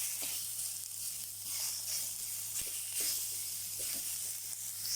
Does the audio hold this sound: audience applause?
no